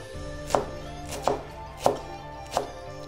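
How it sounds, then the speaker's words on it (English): A knife roughly chops a whole bunch of fresh coriander on a board, four evenly spaced, close, crisp thuds with quiet pauses between. "Whole bunch of coriander, just roughly chop."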